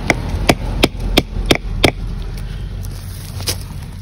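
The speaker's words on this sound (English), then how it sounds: "And now I'm going to set this plug. You can hear the sound change as it gets into that xylem tissue." Hammering an arbor plug into the trunk of a live oak during tree injection: six sharp, evenly spaced wooden knocks over about two seconds, then a quieter tap or two, with no talking.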